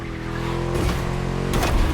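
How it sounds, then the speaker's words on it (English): V8 car engine in the racing game The Crew Motorfest, a loud continuous rumbling drone with steady low harmonics, surging in pitch during two brief revving bursts, alone with no talk. "Just listen to that V8, like a chunky, down-tuned guitar riff."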